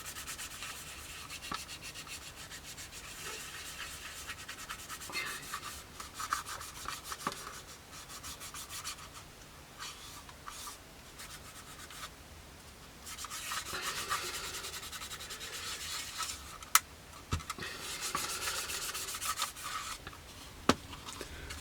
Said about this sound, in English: with a cotton bud. Just rubbing away.